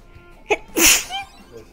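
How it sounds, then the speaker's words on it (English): One sharp, loud sneeze bursts out close by, with a short intake of breath just before it and a faint tail afterward. "I sneezed and lost a viewer."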